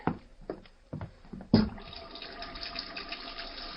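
Hot water gushes from a sink tap after a few knocks and clatters, then runs steadily and close at a moderate level, filling the basin with a broad hiss.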